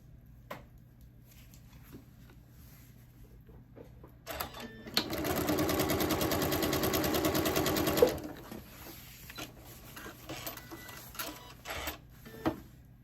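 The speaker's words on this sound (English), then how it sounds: "So we're going to sew our strips together." Quilt fabric strips are pieced on a sewing machine in one short steady burst of about three seconds, close and fairly quiet, with faint handling noises before and after.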